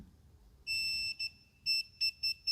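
A sequence of high electronic beeps from a multimeter continuity test: one long tone, then several short bursts in an uneven rhythm, sharp and clear over quiet background.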